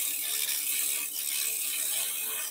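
A round nose scraper shaves plywood spinning on a wood lathe, a steady, bright, rasping hiss that stays continuous and close throughout.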